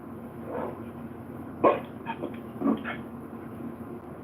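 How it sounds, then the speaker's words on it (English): A black dog and a white dog heard indoors: a few short, moderately loud barks and yips scattered over a few seconds, mixed with softer whimpering whines in between. "the black dog started barking"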